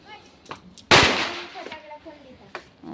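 Children bursting firecrackers for Diwali: one loud, sharp bang close by that fades into a short rumbling tail, with faint voices and small pops around it.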